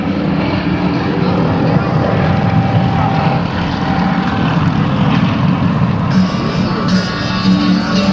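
Aerostars aerobatic propeller planes pull up into a roundhouse loop at an airshow, a loud sustained engine drone that swells and shifts in pitch, with a voice talking underneath.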